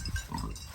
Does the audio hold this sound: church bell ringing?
no